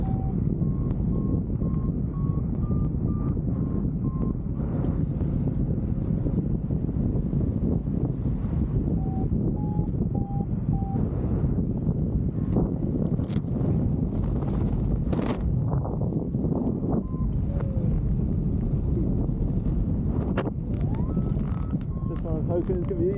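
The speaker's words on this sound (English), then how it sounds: "around this point the wind started to really hit me in the face" A strong headwind roars across the microphone during a paragliding flight from Kardoesie toward Wellington, a loud unbroken buffeting with faint intermittent beeping tones and a voice talking over it.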